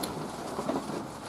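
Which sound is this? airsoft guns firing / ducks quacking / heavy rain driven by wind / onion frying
heavy rain driven by wind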